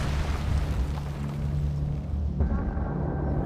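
A weapon blast in Resident Evil 3 rumbles as a sustained low explosive roar with a crackling, burning tail, loud and close, and no talking over it.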